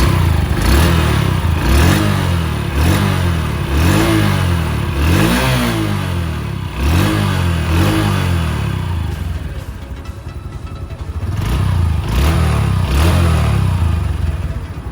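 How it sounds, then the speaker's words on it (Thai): A Honda Super Cub 2020 motorcycle engine revs repeatedly in loud rising and falling bursts, close by, with a brief calmer idle before revving again. "งียบมากนะครับเครื่องยนต์เงียบมากนะครับ"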